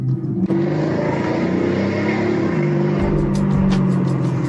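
A Maserati fitted with off-road tires accelerates hard, its engine roar loud and steady throughout, rising slightly toward the end with some rumbling low-end noise.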